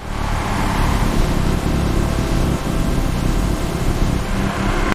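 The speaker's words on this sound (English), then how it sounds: "As the car drove away from the hotel, several paparazzi photographers began pursuing the vehicle." Mercedes car driving away from a hotel, a loud continuous engine and road roar, close and steady throughout.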